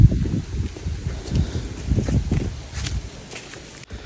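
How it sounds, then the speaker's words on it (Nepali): Wind gusting at Gogal Point in Ilam, a low rumbling buffet that swells and fades across the microphone, with faint movement in the background and no clear speech. "हावा चल्दैछ।"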